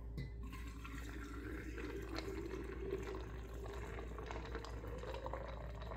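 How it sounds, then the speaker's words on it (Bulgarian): Lemonade mixture poured into a glass carafe holding lemon slices and ice cubes, a steady close liquid pour and trickle with faint clinks, continuous for several seconds with a low background hum. "В една гарафа съм добавил лимон, добавям и купчета лед. Наливам и сместа вътре."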